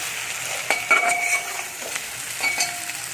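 Chana dal with egg and ground chili, coriander, cumin and turmeric sautéing in a pan, giving a soft steady sizzle with a few sharp clinks of a spoon against the pan.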